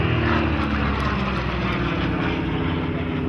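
Vintage propeller warplanes, including Hurricanes and a P-39, roar past in a large formation at the Duxford airshow, a loud, continuous, droning wall of engine noise with no pause.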